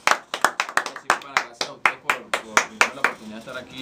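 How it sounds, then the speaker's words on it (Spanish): Studio applause on a radio show greets a guest, a small group clapping in distinct, fairly sparse sharp claps close to the microphone, uneven in rhythm and lasting a few seconds. "Lo recibimos con este aplauso"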